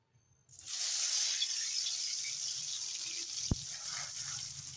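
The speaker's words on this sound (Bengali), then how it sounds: "আলুগুলো একটু লাল করে ভেজে নেবো।" Potatoes drop into hot oil in a wok and fry with a sudden loud sizzle that stays as a steady hiss, close up, with one sharp clink partway through.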